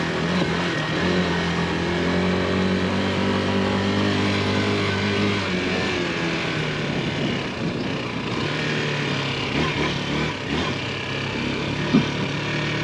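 Bashon Brozz Recon Chinese motorcycle engine droning steadily as the bike rides through mud, a continuous close motor note with shifting pitch and a brief bump near the end.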